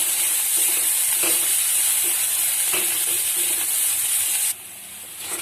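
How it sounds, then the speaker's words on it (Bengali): Cumin spice masala fries loudly in a pan with a constant hissing sizzle and occasional soft stirring strokes; the sizzle drops off sharply near the end. "জিরা গুঁড়ো এক চামচ মশলাটা ভালো করে কষিয়ে নেবো"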